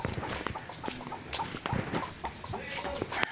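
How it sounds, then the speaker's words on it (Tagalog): Scattered clucks and soft scratching from a flock of native chickens with chicks on a small farm, with light tapping and rustling sounds around them at moderate distance. "Marami tayong mga native na manok kalakas."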